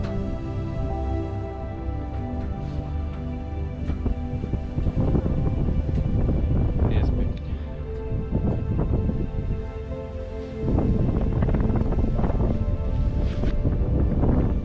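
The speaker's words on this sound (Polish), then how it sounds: "Jak fajnie widać jak wiatr wieje." Strong wind gusts roar across a mountain summit in the Pieniny range, the blustery buffeting rising and falling continuously with no talk over it.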